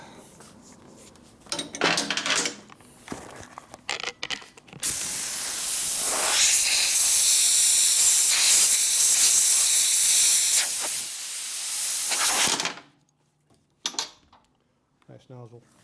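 Compressed air from a nozzle blows off frame parts of a 1942 Harley-Davidson WLA/WLC 45ci motorcycle in a workshop. A loud, close, continuous hiss lasts about seven seconds, framed by scattered clanks and handling noises before and after.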